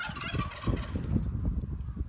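Several turkeys gobble in quick, warbling bursts at moderate distance, overlapping one another, in a village farmyard.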